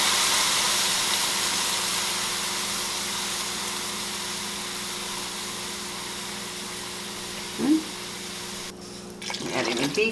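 Beef broth pours steadily into a stew pot for Irish Guinness stew with vegetables, giving a continuous liquid rush close by. It fades slightly over time, and a brief clink and some shuffling follow near the end.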